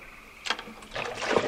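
Short paddle splashes and water swishing as a small paddle boat moves on a Minnesota lake, two quick strokes close by.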